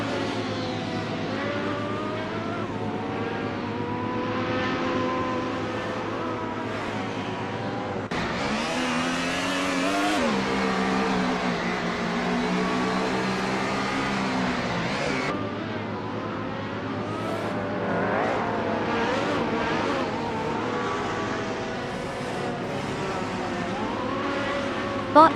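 A 1996 Alfa Romeo 155 Ti V6 in a video game race, its V6 engine droning and revving continuously with rising and falling pitch as gears shift, loud and close, with other cars faintly audible around it.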